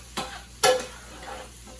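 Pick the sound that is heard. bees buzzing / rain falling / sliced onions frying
sliced onions frying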